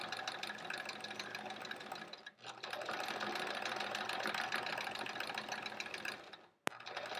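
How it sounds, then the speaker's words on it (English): A sewing machine free-motion quilts through fabric layered with fusible web, its fast, even needle chatter running close and steady, broken by a brief pause partway through and a sharp click near the end. "I can definitely tell as I stitch through it"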